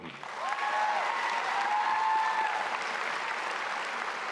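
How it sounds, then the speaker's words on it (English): Graduation audience at Milwaukie High School applauding for Oregon State Seal of Biliteracy recipients, a steady wash of many hands clapping that swells in and holds loud for several seconds, with faint cheers drifting over it. "Please give all of our recipients of the Oregon State Seal of Biliteracy one last round of applause."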